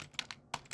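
A few quick keystrokes on a computer keyboard, about four or five crisp taps in a short uneven burst, close and fairly quiet with no voice.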